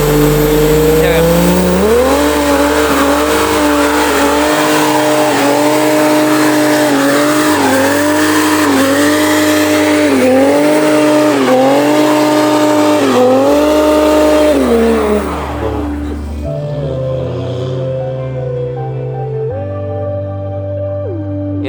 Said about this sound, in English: Now we can take a picture and it looks like you did the burnout.